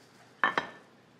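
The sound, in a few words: stirring laksa soup in a pot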